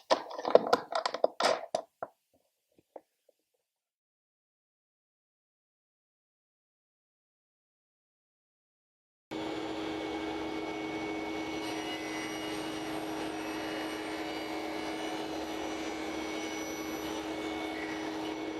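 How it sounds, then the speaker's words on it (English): A table saw cuts a wooden test piece held on a crosscut sled with a miter jig. A few faint knocks give way to silence, then a loud, steady whine and roar of the running blade holds on alone to the end. "now it's time to give it a test run on the table saw"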